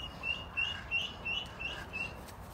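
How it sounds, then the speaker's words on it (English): Chickens at an exotic animal enclosure call out while running, giving a series of about six short, bright, evenly spaced calls over steady background hiss, fairly faint and without talk. "Chicken running."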